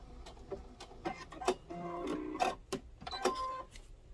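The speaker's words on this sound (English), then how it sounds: "And then start sewing and go around the curve." A sewing machine stitches fabric pieces for a handmade elf gnome, guiding the cloth around a curve, giving a run of close, uneven mechanical ticks and whirring bursts at steady moderate loudness with no talking.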